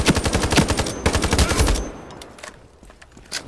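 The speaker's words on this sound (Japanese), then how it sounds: "なんか銃声するんだけど" Rapid bursts of automatic gunfire in the free futuristic FPS game Ironsight, during a team deathmatch, crackle in quick succession, then give way to a few scattered single shots as the firing dies down.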